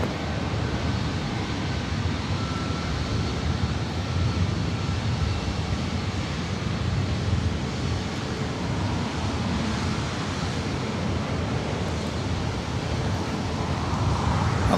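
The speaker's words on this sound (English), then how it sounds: "Up next for takeoff here on the north side of LAX." Jet airliner taking off from the north side of LAX, a steady broad engine roar heard at a distance for the whole stretch with no talk over it.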